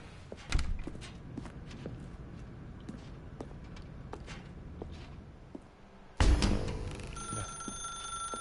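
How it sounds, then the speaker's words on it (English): Telephone ringing in The Stanley Parable video game breaks in suddenly and loudly about two-thirds of the way through, a sustained electronic ring following a stretch of soft footsteps and room ambience. "Now pick up the phone."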